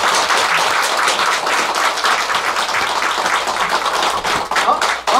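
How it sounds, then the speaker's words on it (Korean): Sustained applause from a seated audience at a Buddhist temple ceremony, dense steady clapping filling the room throughout with no break. "우리 큰 스님께 다시 한번 큰 박수."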